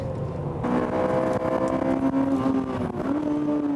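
Race cars including a Supra and an Integra Type R battling at SUGO circuit, engines droning loud and steady throughout with rising pitch as they rev, no talk over them.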